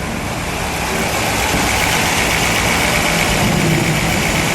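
A blue 1963 Chevrolet Corvette split-window coupe with a fuel-injected engine idles close by, giving a loud, steady, even drone with no revving or voices.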